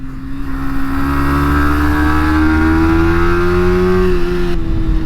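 A 2023 Yamaha R125 motorcycle engine drones loud and close while riding through tight corners, its pitch climbing gradually then easing off near the end, with no speech.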